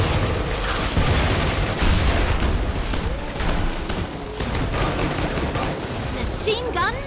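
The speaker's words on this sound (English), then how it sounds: "Machine gun madness." Machine gun fire in Killing Floor 2, loud continuous rapid bursts of gunfire mixed with booms and mechanical clatter, dense and relentless from start to finish.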